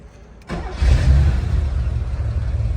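A 1979 Porsche 911 Targa engine cranks and catches, settling into a steady, throaty idle after a brief rise, close and loud with no talking over it.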